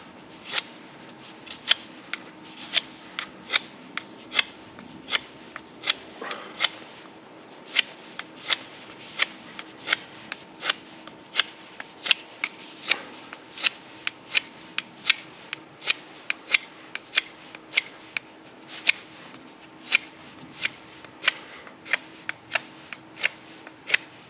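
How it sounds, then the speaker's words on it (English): Knife whittling the end of a wooden stick down to a fine, pencil-like point for a survival fire: many sharp, crisp shaving strokes in an irregular but steady rhythm, close and clear against quiet, with no talk. "Let's go ahead and sharpen up this end here"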